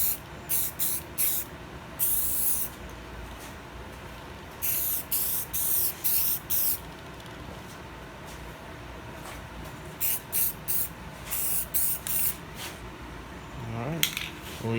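A spray can lays clear coat onto S10 dash speaker parts in a series of short hissing bursts, several quick sprays in clusters separated by quiet gaps, with a faint clink near the end.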